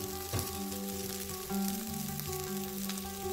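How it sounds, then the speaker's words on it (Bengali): Garlic cloves sizzle in a hot frying pan, a short, close, steady crackle with a brief clatter as they drop in, heard alone. "এখন দিয়ে দেওয়া হলো রসুনের কুয়াগুলো"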